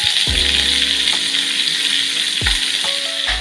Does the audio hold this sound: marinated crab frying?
yes